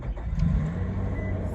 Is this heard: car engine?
yes